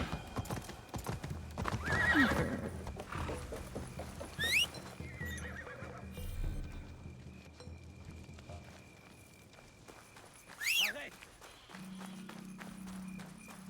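Horse hooves clip-clop steadily in Assassin's Creed Shadows while the horse lets out two sharp whinnies, one early and one late, amid soft game ambience.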